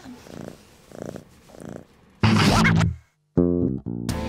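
A cat purrs softly in slow, rhythmic pulses, then louder, sharper sounds abruptly cut in and cover it.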